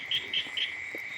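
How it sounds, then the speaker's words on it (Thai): Frogs croak in a steady, rhythmic series of three repeated calls over a constant high insect-like drone, fairly near and moderately loud, recalled from nights sleeping outdoors in Thailand. "เสียงกบ เสียงกบเสียงเขียดห้องครับ"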